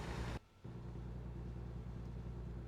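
Truck and car engines in American Truck Simulator hum with a steady, low drone that briefly drops out, then resumes at an even level, with no talk.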